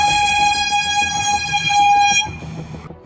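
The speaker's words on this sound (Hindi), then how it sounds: "ये बार बार हॉर्न क्यों बजाना है भाई?" A loud, sustained video game ship horn blares steadily for about two seconds over a rumbling background, then cuts off and the noise fades.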